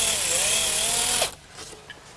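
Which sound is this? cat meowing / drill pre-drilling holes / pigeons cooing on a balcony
drill pre-drilling holes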